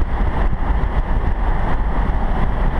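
A 2013 BMW 335is with a JB4 tune runs at high revs in sport mode, giving a dense, loud, sustained engine roar with a heavy low rumble.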